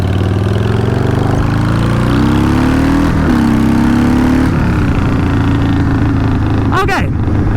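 Harley motorcycle engine dropping a gear on the road, a loud steady rumble whose pitch shifts and rises partway through, with a brief rushing burst near the end.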